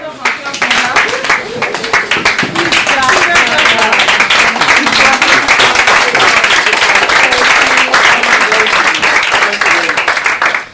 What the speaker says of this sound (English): Can we please clap?